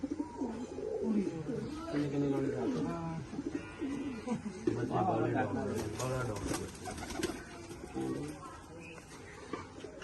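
Pigeons coo repeatedly in soft, low rhythmic phrases, close by, with a few breaks between calls.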